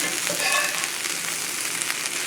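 Potatoes and carrot tops frying in a pan give a steady, close crackling sizzle that runs throughout with no pauses.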